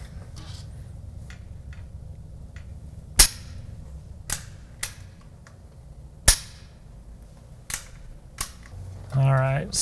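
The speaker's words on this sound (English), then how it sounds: "So we got this 100, that was him closing the bolt, so let's kill that. Okay, so just dry firing." An integrally suppressed .22 rifle dry-fires, a handful of sharp isolated metallic clicks and snaps spread over several seconds against quiet room noise, ending with a brief voice.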